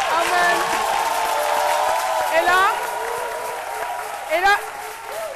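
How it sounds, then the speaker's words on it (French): Studio audience applause on a midday television show, a steady wash of clapping lasting throughout, with a presenter speaking over it and brief singing or vocal flourishes rising above the crowd. "je vous demande d'applaudir"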